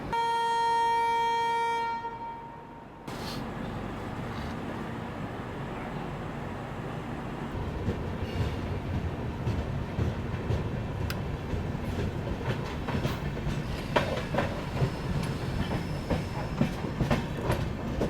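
An express train, the Rameshwaram–Banaras Express, crosses the Old Naini road-cum-rail bridge at Prayagraj. A brief tonal sound opens the clip, then a steady, loud rolling rumble with rhythmic wheel clatter continues throughout with no talk.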